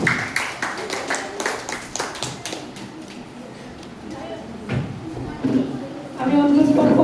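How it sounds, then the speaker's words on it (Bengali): Audience at a teacher's day celebration clapping hands in scattered rhythmic bursts, fairly close, fading to sparse claps before a voice speaks over rising background noise. "সকলে হাততালি দিন"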